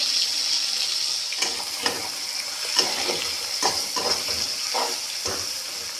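Tomatoes and turmeric fry in a pan for a masoor dal egg tarka, giving a steady close sizzle with soft stirring scrapes and clinks at irregular intervals.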